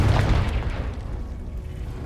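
A fire spell's blast in Hogwarts Legacy: one heavy, booming burst up front that rolls off into a low, fading rumble, loud and alone with no talking.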